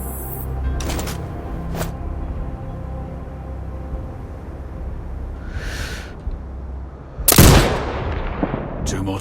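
A single loud, sharp sniper rifle shot in Sniper Ghost Warrior Contracts 2 cracks out near the end over a low ambient rumble, after a few quieter earlier clicks.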